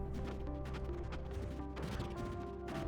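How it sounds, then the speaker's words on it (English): Glitching weapon fire from a glaive in the From the Depths video game, a rapid stuttering series of harsh cracks and thumps over a steady mechanical drone, repeating irregularly in dense clusters. "the sound's glitching out from the glaive"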